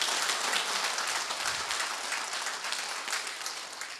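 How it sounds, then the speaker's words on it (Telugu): Audience applause at a gathering, dense continuous clapping from many hands that holds steady for several seconds and slowly eases off. "ఒక్కసారి మనస్ఫూర్తిగా ప్రతి ఒక్కడు క్లాప్స్ తోటి అభినందించండి"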